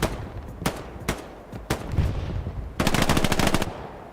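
Machine gun fire rings out in the World War II shooter game Hell Let Loose on the Hürtgen map: scattered single loud cracks, then a sustained rapid burst near the end, close and sharp with no talk.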